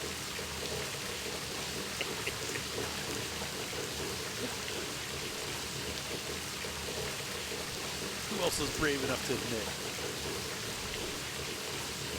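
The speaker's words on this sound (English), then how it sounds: "we might as well take a shower real quick" Shower water runs steadily in My Summer Car, a constant hiss like rain on a surface that fills the whole stretch while a person talks quietly over it.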